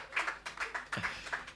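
A man claps his hands, about eight quick, fairly light claps spread in an uneven rhythm, close by, with faint background murmur.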